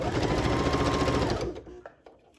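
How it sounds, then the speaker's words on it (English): A sewing machine runs steadily, stitching fabric for a skirt with a loud, even mechanical whir for about a second and a half, then stops, leaving a few faint clicks. "And just keep sewing."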